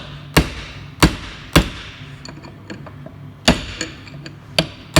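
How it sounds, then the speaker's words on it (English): A chisel tapped with a hammer seats the inner CV boot on a 2004 Audi A4 S line 1.8T, a series of sharp close metallic knocks, a few heavy blows interspersed with lighter taps. "But I will finish it off with the chisel."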